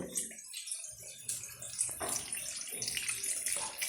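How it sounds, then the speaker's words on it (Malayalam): Water splashes and pours in an uneven stream, poured off from cooking pumpkin, with small clinks of a vessel, steady for a few seconds. "നമ്മൾ ഇതിൽ നിന്ന് കുറച്ച് വെള്ളം അങ്ങോട്ട് മാറ്റി വയ്ക്കുകയാണ്"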